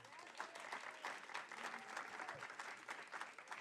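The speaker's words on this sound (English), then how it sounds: "Clap it up for Tammy." An audience at an ideas festival session claps for a panel moderator, steady applause with some voices mixed in underneath, recorded quietly.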